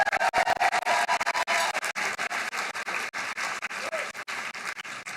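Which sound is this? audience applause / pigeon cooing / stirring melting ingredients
audience applause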